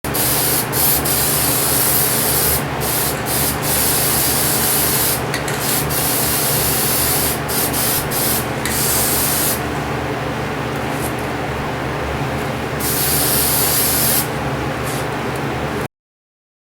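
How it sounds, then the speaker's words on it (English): An aerosol can sprays black paint inside a handmade prop radio in bursts of hissing, with short pauses between passes, close and fairly loud with no talking. "But first, I've got to spray inside of there black."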